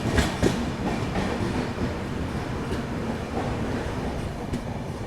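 The Surat Malda Town Express runs through the Vidarbha region, heard as a steady, close rumble of the moving train. Faint rhythmic clatter of wheels over rail joints rises over the drone.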